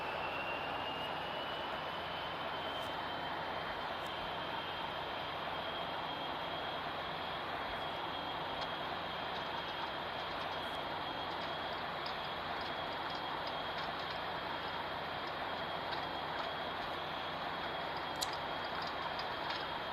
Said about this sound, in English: Let's start our takeoff roll.